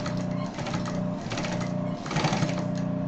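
A sewing machine runs a closing seam on a cross-body bag, its needle chattering in a fast, steady mechanical rhythm, close and continuous with slight changes in pace.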